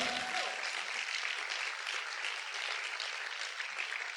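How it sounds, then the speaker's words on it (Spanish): Congregation applauding in a church, a dense, steady wash of clapping that holds evenly throughout without a break, moderately loud and heard alone. "Vamos a aplaudir fuerte al Señor"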